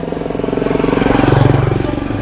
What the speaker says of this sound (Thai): รถมอเตอร์ไซค์มานันดูสิ